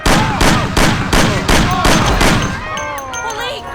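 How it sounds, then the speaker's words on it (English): Gunfire rattles through a shootout in the Mafia video game, a rapid run of loud, close shots in the first two and a half seconds before the firing stops and a voice carries on alone. "Boy, it's shooting here!"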